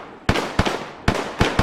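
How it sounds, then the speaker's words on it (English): Mortar explosions in a military video game land as five sharp, booming blasts at uneven intervals, each with a short rumbling tail, loud and fairly close, with no talking. "I hear more mortars."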